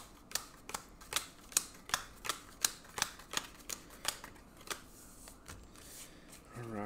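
Cards for the Legacy of Yu card game being shuffled, with a string of about fifteen crisp, fairly even riffling clicks, quiet and close, ending with a soft rustle.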